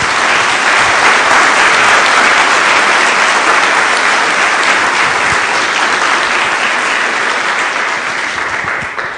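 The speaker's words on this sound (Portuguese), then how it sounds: "Dê uma salva de palmas a Jesus" A church congregation claps in loud, sustained applause that fills the whole stretch at an even level, tapering only slightly near the end.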